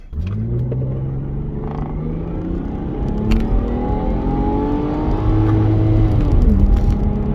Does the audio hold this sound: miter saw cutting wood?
no